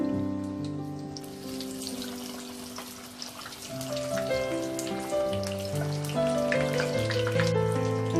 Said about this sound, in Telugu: మీడియం ఫ్లేమ్లో కలుపుతూ 2 వైపులా వేయించుకోవాలి.